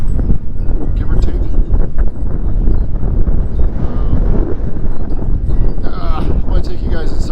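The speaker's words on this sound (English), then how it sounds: "It's just crazy windy out here." Strong gusting wind buffeting the microphone outdoors on a farm property, a loud continuous roar and rumble throughout, with faint rustling and a brief voice near the end.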